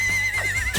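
A cartoon horse lets out a short, high wavering neigh, loud and close, lasting under a second.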